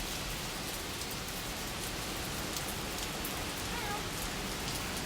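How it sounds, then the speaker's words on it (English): Steady heavy rain pours down during a hurricane, a dense continuous wash of noise with wind mixed in, unbroken and fairly close throughout. "And then the rain starts to pour out of nowhere."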